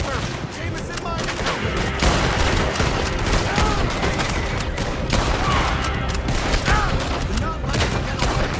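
Gunfire crackles through a Red Dead Redemption 2 shootout, a dense, continuous fusillade of loud rifle and pistol shots with booming hits, running steadily throughout with voices shouting over it.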